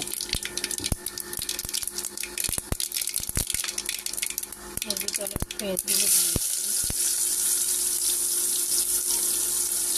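Cumin, mustard seeds and bay leaves hit hot oil with scattered crackles and pops, then a loud, steady sizzling hiss takes over for the rest of the time.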